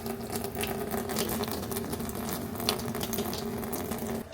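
Steady rushing water flows continuously through a newly installed SimPure T1-100 reverse osmosis system, dark water clearing, a dense hiss with a low hum underneath, loud and close.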